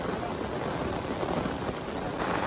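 Heavy rain pours down in a hillside forest as a dense, steady hiss close around, with no pauses or voices over the short stretch.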